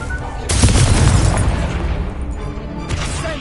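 A booming magical blast from the Confringo explosive spell in Hogwarts Legacy, a loud burst erupting after half a second, rumbling for about two seconds, then a second sharper hit near the end.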